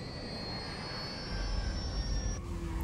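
Jet airplane engine in Grand Theft Auto 5, a steady broad roar with a high whine that deepens and grows louder partway through, heard alone without talk.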